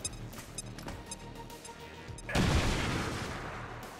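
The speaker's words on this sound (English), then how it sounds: "I wish the grenade was just a little bigger. This is for you. Bye-bye, cover." A grenade explosion in XCOM 2 lands as a sudden loud boom partway through, following quieter game ambience and small clicks, then rolls off into a lingering rumble.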